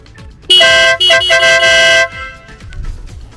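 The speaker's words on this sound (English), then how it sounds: "that DENALI SoundBomb is crazy loud" A DENALI SoundBomb horn fitted to a motorcycle blasts loud and near, one long honk broken by a brief gap into a second sustained blare, then cuts off, leaving quiet outdoor background.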